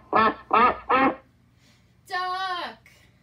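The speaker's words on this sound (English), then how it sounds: "Duck." A duck gives three quick, raspy quacks in a row, then after a short pause a longer tonal call follows, close and clear with no talking, in a children's animal-sounds game.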